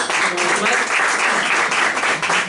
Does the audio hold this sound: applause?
yes